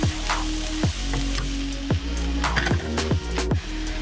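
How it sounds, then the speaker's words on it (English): Sliced mushrooms sizzle steadily in a hot pan, a close, continuous frying crackle broken by a few sharp clicks and knocks, likely from a utensil touching the pan. No voices are heard. "So we're just going to add the mushrooms in. And we're going to leave that cook then for about another 5 minutes."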